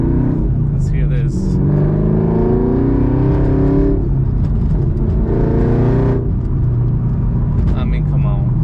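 Chevrolet Camaro ZL1 1LE engine revving loudly up close, with two rising-and-falling rev sweeps over a steady, deep idle rumble.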